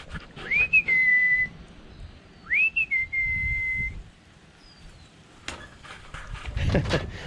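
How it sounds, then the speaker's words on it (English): A person whistles two rising-then-level calls to a dog, each held briefly, with a pause between them; background noise and faint thumps follow. "That was the whistle I used to do with her."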